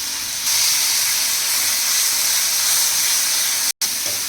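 Green chili paste sizzling as it sautés with garlic and cumin in a hot pan, a steady bright hiss that carries on alone with only one brief break.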